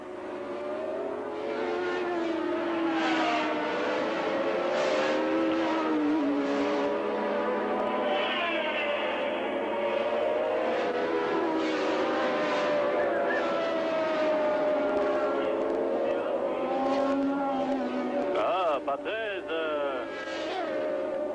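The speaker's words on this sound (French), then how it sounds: "Il va maintenant doubler Patrese" Formula 1 cars race at the 1981 Austrian Grand Prix, engines wailing and shifting pitch as they pass, loud and continuous, with a commentator talking over the roar.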